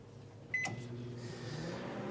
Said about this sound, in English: you'll be able to hear some dropouts while the microwave is running